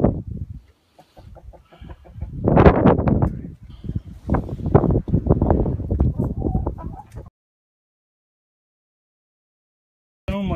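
Backyard chickens cluck in quick, close bursts, some loud, mixed with a person speaking, before a long silence near the end.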